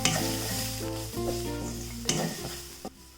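Masala mix with garam masala, Kashmiri chilli powder and salt being stirred in a hot pan, giving a close sizzle broken by a few scraping stirs over about three seconds.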